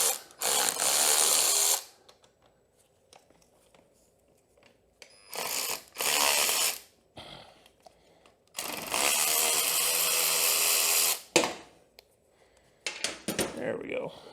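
Impact wrench bursts free a brake stay arm bolt on a Yamaha TT-R110 dirt bike, several loud whirring rattles of a few seconds each, separated by pauses.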